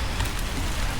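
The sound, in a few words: heavy rain pouring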